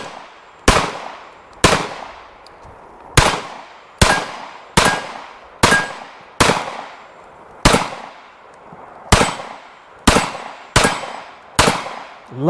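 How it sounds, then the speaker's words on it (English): Gunfire from a CZ P-09 F Nocturne 9mm pistol firing steel-case 115 grain rounds, about a dozen loud, sharp shots spaced roughly a second apart, each followed by a short echoing decay, with no talking. "We're just shooting steel rounds, 115 grain."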